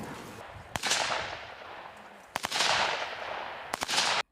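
Automatic weapon fire at a fighters' training camp comes in sharp bursts, each crack followed by a long ringing echo that fades out before the next burst, loud and outdoors.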